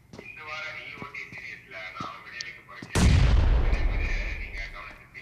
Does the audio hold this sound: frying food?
no